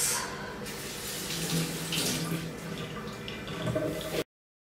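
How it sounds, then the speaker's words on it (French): Tap water runs steadily into a kitchen sink while a sponge rinses off a natural silver-stone cleaner, splashing and swishing continuously nearby before stopping abruptly. "une fois que j'ai bien rincé avec l'éponge qui est fournie avec la pierre d'argent"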